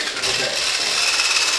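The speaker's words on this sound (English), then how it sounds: "And now whisk it." Continuous, close scraping swish of a whisk beating carrot cake batter with Greek yogurt and vanilla in a bowl, a dense rapid rasp with no pauses.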